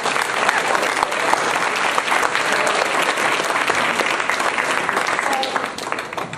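Event audience clapping loudly in a sustained round of applause, dense and close throughout, tapering off near the end with some voices mixed in.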